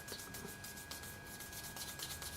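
Rubbing of sugar paste by hand over a cutter for cake and cupcake decorations, a steady soft friction sound lasting throughout, close and fairly quiet with no voices.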